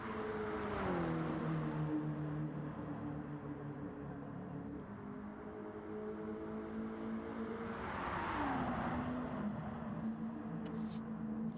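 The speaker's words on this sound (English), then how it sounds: "I love the engine sound on these cars." Racing car engines in a video game drone steadily and loudly, their pitch rising and falling as the cars pass, with no talking over them.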